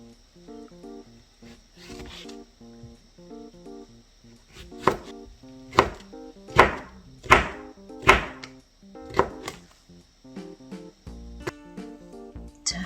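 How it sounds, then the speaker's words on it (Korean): A knife cutting cucumber and red paprika into long thin strips on a board, about eight sharp, evenly spaced chops near the end after softer taps, with faint background music and no talking. "오이도 길게 채 썰어 주시면 되겠습니다."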